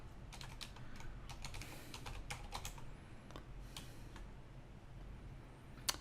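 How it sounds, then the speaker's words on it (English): A computer keyboard clatters as city names are typed into an Excel spreadsheet, quiet and close, with quick irregular bursts of keystrokes over a faint room hum and no talking. "I'm going to start typing in cities in the southeast."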